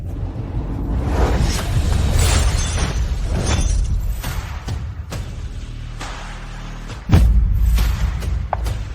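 Glass shatters during a heated confrontation, a dense crashing burst with scattered breaking debris and thuds over several seconds, followed by a sharper impact near the end, fairly loud and without clear talk over it.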